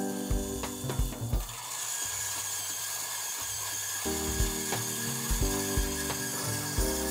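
An electric coffee grinder grinds Tully's blend coffee beans, giving a continuous gritty, rasping crunch with a motor hum that shifts in tone partway through, alone and fairly close for several seconds.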